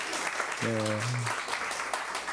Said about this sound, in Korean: 다시 한번 격려와 사랑의 박수를 보내주시겠어요?